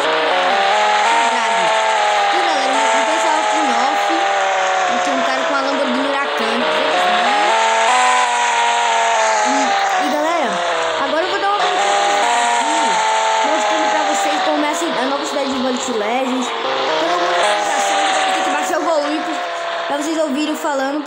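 Audi R8 engine roaring in a racing video game on a desert course, a steady loud sustained engine note with pitch sweeping up and down through gear changes, running throughout beneath someone talking.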